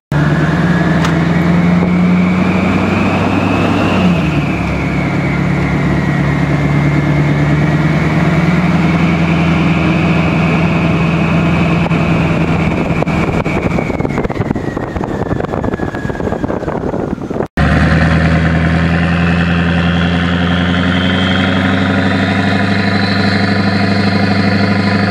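A Duramax diesel truck engine runs close and loud in a continuous, throaty idle, with the pitch rising and falling gently. There is a brief cut partway through before the steady rumble resumes.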